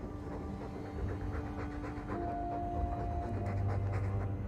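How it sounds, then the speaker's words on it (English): A dog pants steadily in Dragon Age 2, rhythmic breathy huffs repeating close by over a low ambient game hum, with no talking. "All that noisy dog breath"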